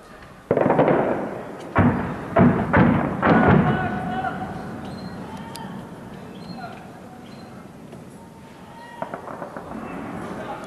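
Shelling explodes over the city of Hama in a burst of heavy booms, four or five loud blasts in quick succession early on, then a quieter rumbling aftermath with a few sharper distant cracks near the end.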